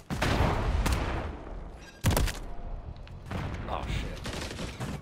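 Gunfire rattles through a Call of Duty MW3 match: loud bursts of shots, with a strong blast at about two seconds followed by further shooting and smoke-filled chaos, while players chatter over it.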